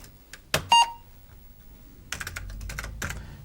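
Keys clatter on a worn, dirty Apple IIc computer keyboard: a couple of isolated presses and a short beep, a pause, then a quick burst of close, crisp typing ending in a sharper keystroke.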